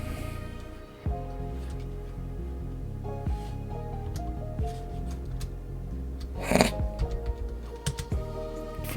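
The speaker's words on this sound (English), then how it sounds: "I'm typing like an absolute virgin here." Someone types on a computer keyboard in quick, uneven bursts of close clicks and clacks, with a brief pause near the start and a denser flurry of keystrokes toward the end.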